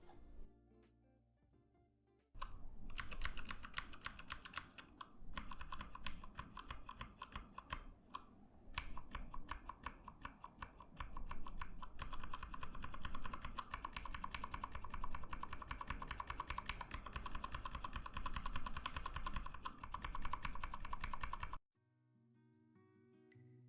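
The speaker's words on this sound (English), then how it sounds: "I'll show a sound sample test. The Gateron Blue, the stock MX Clear, and the Lube MX Clear." Fast, steady typing on clicky mechanical keys of a Keychron K2 V2 keyboard with Gateron Blue and stock and lubed MX Clear switches, loud and close, with short pauses between bursts and no talking.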